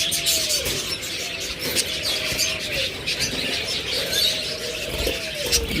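A pet bird shop holding lovebirds, cockatiels, budgerigars, finches, forpus and doves fills with steady overlapping chirps and tweets, soft cooing and occasional wing flaps, with no voices.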